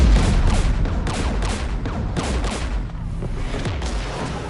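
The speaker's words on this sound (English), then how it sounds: "We're taking fire." Gunfire and explosions from the video game Mass Effect roll out as a loud, continuous barrage of rapid shots and heavy booms, densely layered without pause.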